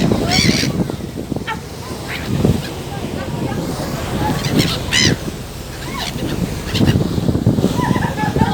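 Young seagulls call over the sea on the way to the Princes' Islands, with repeated sharp squawks scattered at irregular intervals over a continuous wash of wind and water, and voices murmuring underneath.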